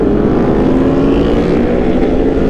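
A Yamaha R1 sport motorcycle is ridden with a steady, loud engine drone and wind rush, the engine holding an even roar throughout.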